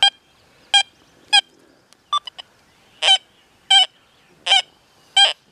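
Metal detector signal tones from an XP Deus 2 after ground balancing, a low-ID target response: seven clear, evenly spaced electronic beeps alone, with a few short faint blips between them.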